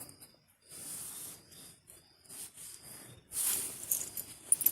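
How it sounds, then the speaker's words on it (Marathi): Finely chopped onion fries in a kadhai for a mutton curry, giving soft, uneven bursts of sizzling hiss that swell and fade, fairly quiet and close. "कांदा पण आपण मस्त खरपूस रंगावरती भाजून घ्यायचा आहे"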